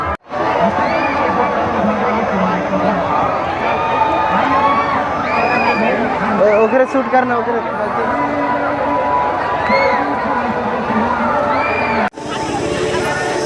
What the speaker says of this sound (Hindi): यहाँ की भीड़ आप देख सकते हो